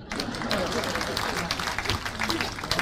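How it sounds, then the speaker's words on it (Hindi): An audience at a Hindi humorous poetry gathering breaks into continuous applause after a poem, a dense, even wash of many hands clapping that holds steady throughout, with voices mixed into the crowd noise. "कविता खत्म हुई, तालियां बजाएं।"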